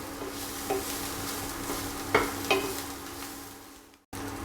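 Capsicum and onions fry in a pan for pepper chicken, a constant sizzle broken by a few sharp utensil scrapes, then a brief drop to silence near the end.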